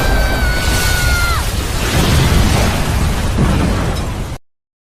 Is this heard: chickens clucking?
no